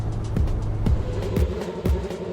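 A Lotus Elise drives through opened-up traffic, a close, steady engine and road drone with four evenly spaced thumps, like tyres crossing road joints, about every half second.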